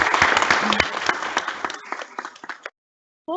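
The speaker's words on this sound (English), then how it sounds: "A round of applause, councillors, for our new Mayor, Councillor Josh Gilligan." Councillors applaud a newly installed mayor at a statutory council meeting, a dense burst of clapping filling the room for nearly three seconds before it thins out and stops, then a brief tonal sound follows.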